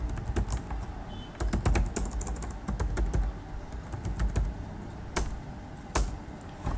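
Close computer keyboard typing while entering Python code, irregular bursts of crisp key clicks with short pauses between words.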